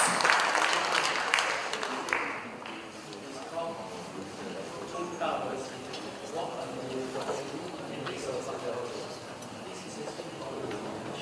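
Guests at a formal dinner with World Peace Forum delegates applauding, the clapping strongest at the start and then thinning into lighter scattered claps beneath a background of talk.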